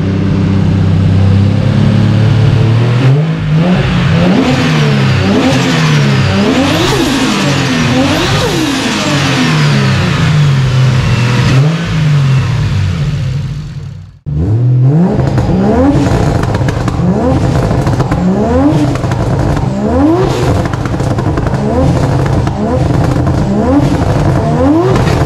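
The loud engine of a tuned 610 bhp R34 Nissan Skyline revs repeatedly, climbing and dropping in pitch with aggressive roaring bursts, briefly cutting out before roaring back up close by.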